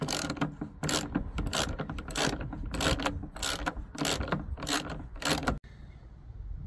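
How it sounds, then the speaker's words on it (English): Ratchet with an extension turning a 10mm bolt on a VW Jetta MK5 headlight: quick repeated clicking in close, regular bursts, then stopping abruptly near the end. "it's 10mm, so just get the extension and remove it"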